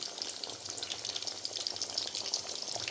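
Fish kebab fries in a pan over high flame with a steady, bright crackling sizzle, continuous and close, with no voices.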